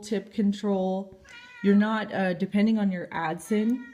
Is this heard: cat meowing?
yes